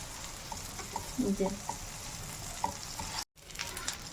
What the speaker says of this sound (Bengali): এবার গ্যাসটা একদম লোতে দিয়ে অন্য সাইডটা ভেজে নেবে